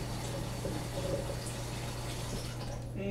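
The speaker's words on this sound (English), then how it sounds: "put in some water" Tap water runs steadily into a kitchen sink holding frozen chicken breasts, a continuous close splashing flow with a low hum beneath it and no talking.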